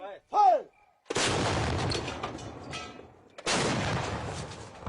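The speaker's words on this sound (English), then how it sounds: "The army does not sleep either, pounding them with 130 mm artillery shells." Army guns fire 130 mm artillery shells in rugged mountain country, heard as two long, loud, booming rumbles that roll on for seconds each, following a brief high call at the start.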